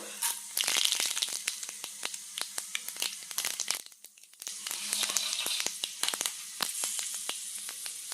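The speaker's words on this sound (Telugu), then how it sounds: "కొంచెం కరెక్ట్ చిటపట చిటపట అంటుంది" Tempering spices crackle in hot oil for a coconut chutney, with scattered sharp pops over a steady close sizzle that briefly dips before returning.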